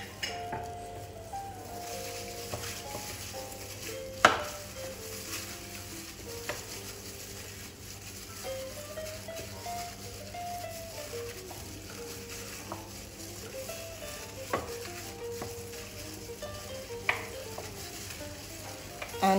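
Chicken for a homemade KFC-style fried chicken is mixed in its marinade with oil, giving a steady wet squelching and stirring texture, punctuated by occasional clinks of a utensil against the bowl.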